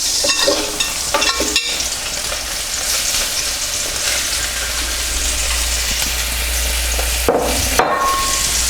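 Mushrooms sizzling and frying in a pan of oil with Bertolli spread, a steady broadband hiss throughout with a few knocks and stirring clatters near the start and end.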